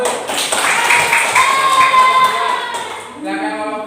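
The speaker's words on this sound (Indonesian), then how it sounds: "Tepuk tangan untuk kelompok satu." Applause and cheering fill a classroom as a group is praised, with children's voices mixed into the clapping, fairly loud and dense for a few seconds before fading as a voice speaks.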